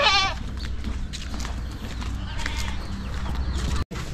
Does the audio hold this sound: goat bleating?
yes